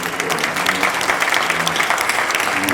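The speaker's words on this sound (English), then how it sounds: "You ought to give Braves a huge round of applause." Loud, close applause from a business luncheon crowd for the Braves baseball organization, a dense steady wash of clapping hands with scattered sharper claps standing out, unbroken from start to finish.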